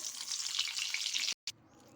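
A spoonful of butter sizzles steadily in hot oil in a pan, a loud bright crackle that cuts out abruptly for a moment and then resumes more quietly.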